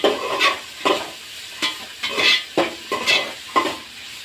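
Vegetables, cabbage among them, sautéed in a pan for fried rice, with a spoon scraping and stirring in repeated strokes over a steady sizzle, close and fairly loud, no voices.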